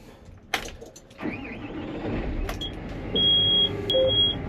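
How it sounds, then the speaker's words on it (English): Over a running tractor engine during tillage, a couple of steady high electronic warning beeps sound, close and clear, after some clunks. "Why do these tractors just beep at me all the time?"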